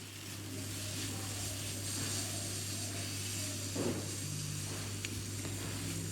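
Spiced raw mango pickle with turmeric, salt and chilli powder is stirred in a pan over a steady soft sizzle, with a constant low hum and occasional scraping clinks.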